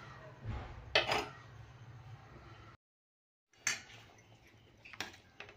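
A lid set down over a simmering pot of sandga (dried lentil dumpling) curry, giving two separate metallic clinks separated by a brief silence, close and fairly soft.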